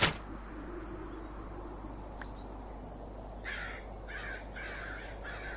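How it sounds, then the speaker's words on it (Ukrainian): Crows caw in the Minecraft Galacticraft game on Mars, a series of four rhythmic caws rising late over a steady low ambient drone, with no talk. "Знову ворони, ну це все галюцинації персонажа"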